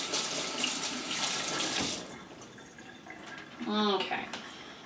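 Tap water runs in a sink to rinse baking soda off rusty buttonhole scissors, a broad steady splashing for about two seconds, then quieter sounds, a brief spoken word and a short burst of flow near the end.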